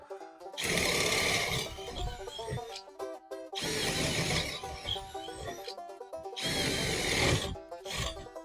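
A power drill turns a DeWalt black and gold 3/8-inch twist bit, whining loudly in three sustained bursts with short gaps, close and harsh, with rattling as the bit bites.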